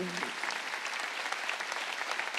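A church congregation at a Sunday worship service claps together in a dense, steady burst of applause that fills the room after a brief word from the preacher.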